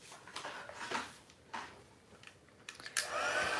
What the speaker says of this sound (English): And then we're going to heat set this.